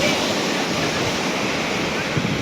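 Ocean waves wash in on a beach, a loud, steady roar of surf mixed with wind buffeting the microphone, continuous with no breaks.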